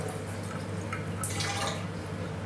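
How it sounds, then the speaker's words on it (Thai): Water drips and splashes steadily while a face is rinsed clean after washing, a close, continuous wet patter over background hiss. "ก็ทิ้งสักประมาณนึงแล้วก็ล้างหน้าทิ้งเนาะ"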